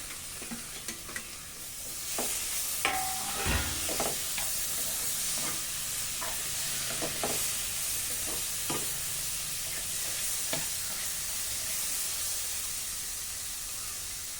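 Tomato and chilli sizzle and fry steadily in a pan, with occasional clinks and scrapes of stirring over the continuous hiss.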